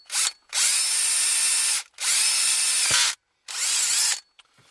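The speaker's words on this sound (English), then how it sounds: "Get the drill started." Power drill boring into a Subaru automatic transmission shifter, three long loud whirring bursts separated by short pauses, plus a brief opening blip, close up with no talking.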